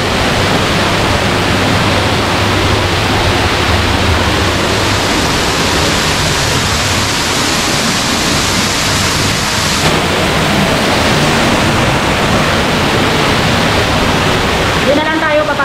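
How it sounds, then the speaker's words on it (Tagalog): Indoor waterfall inside a cool house near botanic gardens pours in a dense, constant roar, close and loud, with voices faint beneath the rushing water. "Ang ganda kasi ng falls."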